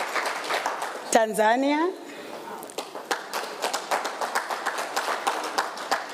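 Audience at a Zimbabwe prisons and correctional service conference on parole claps in a sustained round, with a shout from one voice near the start and scattered voices over the steady clapping.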